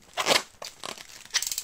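Tape is ripped off a parcel in three short bursts of tearing and crinkling, close and moderately loud, with brief pauses between pulls.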